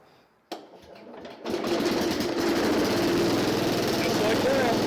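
A Cub Cadet 149 lawn tractor engine cranks from cold with half throttle and full choke, catching after a short whir and settling into a loud, steady close-up idle.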